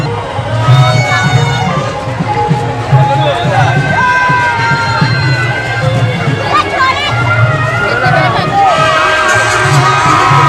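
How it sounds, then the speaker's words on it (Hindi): A noisy crowd fills a Chhath festival fair with a dense, loud babble of voices, shouts and children's toy horns, continuing throughout. "बहुत ही भीड़ है, जैसा कि आप देख रहे होंगे कितनी आवाज़ आ रही है यहाँ पर।"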